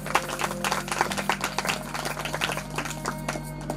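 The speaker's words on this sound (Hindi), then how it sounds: "बजाइए ताली।" Audience applause at a Hindu religious discourse, a Shrimad Bhagwat Katha celebrating Krishna's birth in Jabalpur: steady, dense clapping from a crowd with a sustained musical drone underneath, continuous for a few seconds at moderate level.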